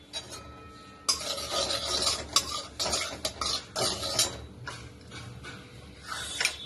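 A spoon scrapes and stirs through a mashed jackfruit seed mixture as salt is worked in, in repeated bursts of clattering metal on the pan with short pauses between them, close and fairly loud, with no talking.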